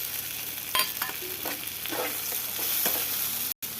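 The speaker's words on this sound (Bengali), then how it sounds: "টমেটোটা নেড়ে ভালো করে একটু ভেজে নেব।" Onions, tomatoes and green chillies are stirred and fried in a pan, making a close, steady sizzle with scraping spatula strokes and a brief cut-out near the end.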